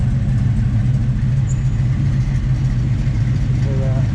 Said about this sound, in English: Let's go back and let you hear the exhaust.